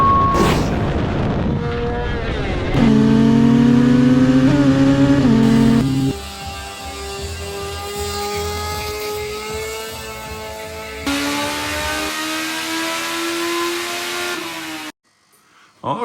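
Suzuki Hayabusa Turbo motorcycle on a test ride, loud engine revving up through several gears with pitch climbing and dropping between shifts, then cutting out near the end.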